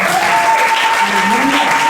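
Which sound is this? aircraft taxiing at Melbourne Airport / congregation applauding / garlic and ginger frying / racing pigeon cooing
congregation applauding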